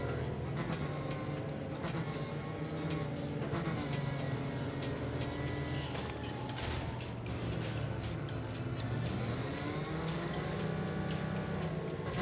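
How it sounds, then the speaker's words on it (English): A car modelled on a Dodge Challenger/Charger drives in the video game Haunt Mini on a slippery surface. Its engine drones steadily and loudly throughout, with a constant rumble and shifting pitch, and no voices. "this car is based on a Dodge Challenger / Charger"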